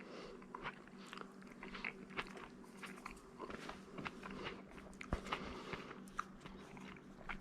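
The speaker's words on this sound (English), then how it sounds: "let's just go ahead and go for a bite" Someone bites and chews a slice of cherry tomato pizza with garlic, cooked in an Ooni Koda oven. Close, soft crunching and mouth noises continue steadily with no talking.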